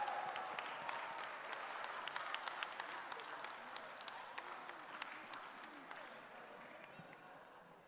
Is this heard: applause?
yes